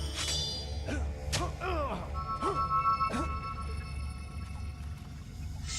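Sword strikes during combat training in the video game Fable, several swishes and thuds in quick succession with grunting voices over a steady low ambient hum.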